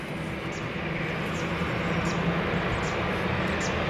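Airliner taking off from runway 20 at Lisbon Airport, a steady broadband jet roar that holds loud and constant throughout, without voices.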